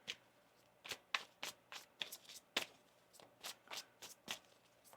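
Tarot cards are shuffled by hand, a quiet, close series of about a dozen crisp riffling snaps and slaps at an uneven rhythm, with no talking.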